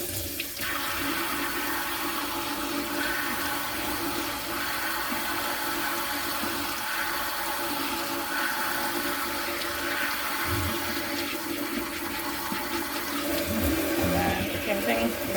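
Lukewarm tap water running steadily over a hair topper, a continuous close splashing rush lasting throughout, with a voice talking faintly under it.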